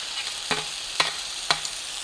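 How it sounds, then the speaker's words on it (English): Browned meat and vegetables for fajitas stirred in a hot skillet, a continuous sizzle with three evenly spaced scraping strokes of a utensil, close and alone without talk. "Now the browned meat and vegetables are going to go back into the skillet."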